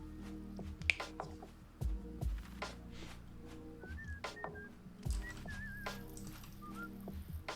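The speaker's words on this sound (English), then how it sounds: "He's whistling." A man whistles a few short melodic phrases at a wedding with horses, light and intermittent, mixed with sparse knocks and clatter nearby.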